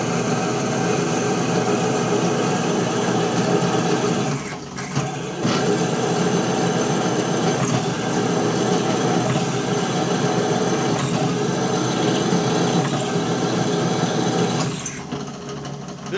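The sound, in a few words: drill boring a hole in steel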